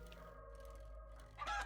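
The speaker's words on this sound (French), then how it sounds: "une poule, une poule, une poule" Chicken in the video game 7 Days to Die, a short burst of clucking near the end, over a steady low game-world hum.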